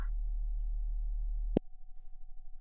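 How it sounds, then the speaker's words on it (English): Steady pure sine tones from a synthesizer patch: a low drone with a higher held tone, cut by a sharp click midway, after which a single high tone continues over a faint pulsing low hum. "that's a sine wave on the top, and there's another sine wave on the top"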